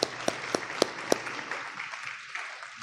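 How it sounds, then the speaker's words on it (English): Audience applause at a school board meeting, heard as a brief burst of loud, distinct claps in the first second that quickly thins out into scattered, fading clapping. "Another round of applause for Savannah."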